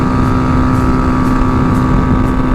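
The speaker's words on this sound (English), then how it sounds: "this little bike is killing it, y'all" A Tao Tao TBR7 Hawk dual sport motorcycle climbing a steep dirt hill, its engine droning loud and steady with a constant hum and rushing wind noise over the microphone.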